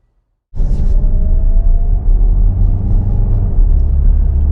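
A 2025 Kia Sorento plug-in hybrid EX AWD SUV with a low battery sets off on a drive, a low rumbling cabin drone starting abruptly after silence, with a faint rising whine.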